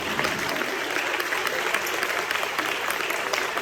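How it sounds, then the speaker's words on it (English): An audience gives a round of applause in thanks to absent supporters, a continuous, even patter of many clapping hands heard at moderate distance, sustained throughout without speech. "Give them a round of applause."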